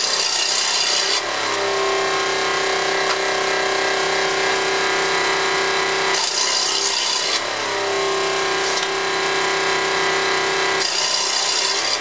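A scroll saw fitted with a parallel fence cuts through wood in a loud, continuous buzzing rasp, broken by a few brief pauses where the blade changes pace.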